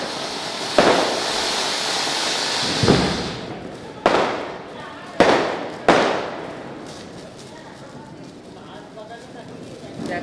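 Chakri ground spinner fireworks set off at a Diwali celebration, a sustained hissing whoosh broken by several sharp cracking bangs, then fading crackle, with people talking nearby.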